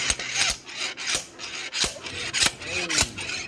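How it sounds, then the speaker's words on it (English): Repeated sharp metallic slide hammer strikes pulling a part from an automotive driveline in a community college lab, about six hard impacts in quick irregular rhythm, close and loud. "this is a stronger slide hammer, so if I catch the lip, we'll be able to get it out"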